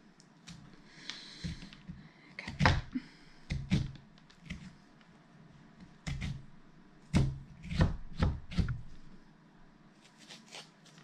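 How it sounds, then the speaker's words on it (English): Seeds and guts being scooped out of a squash, soft wet scraping and squishing strokes with muffled knocks of the spoon against the shell, close and quiet, in irregular clusters. "Watching me scoop the squash guts out makes for interesting television."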